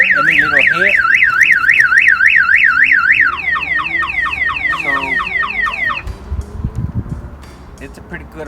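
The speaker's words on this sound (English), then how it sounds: "it's a pretty good alarm" A Viper car alarm blares loudly nearby, cycling through a rapid warbling siren, then a falling chirp pattern, before cutting off into quieter background noise; a voice speaks briefly near the start.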